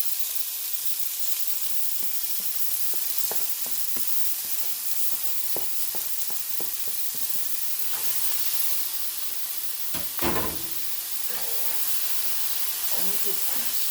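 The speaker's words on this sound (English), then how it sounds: "I'm going to put the meat in the frying pan. You like to hear that sizzle?" Thinly sliced meat sizzles in a hot frying pan in a home kitchen, a constant bright hiss with scattered crackles and a louder burst of spatter near the end as it gets stirred.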